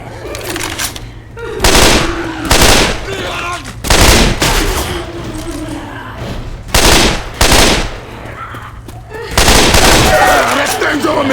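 Bursts of loud gunfire in the video game Left 4 Dead 2, several separate volleys and sustained shooting close up, with characters shouting in between.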